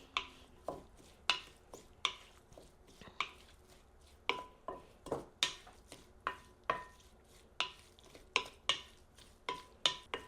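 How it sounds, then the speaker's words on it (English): A spoon knocks rhythmically against a bowl while avocado chimichurri sauce is mixed, a steady series of sharp taps and scrapes at close range with no talking. "now I'll just mix it up"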